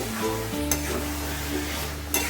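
Taro leaves cooked with a hilsa head sizzle steadily in a pan while a spatula stirs them, with a continuous frying hiss and a couple of brief scrapes, close and without speech.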